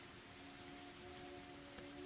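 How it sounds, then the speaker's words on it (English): Rain drums on a roof in the video game Higurashi, a soft, constant hiss of dense drops with a faint steady hum beneath, quiet and unbroken throughout. "The only sounds that broke the silence were the percussion of the rain in the roof"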